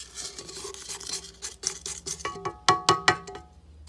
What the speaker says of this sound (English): I almost always have to scrape down the sides.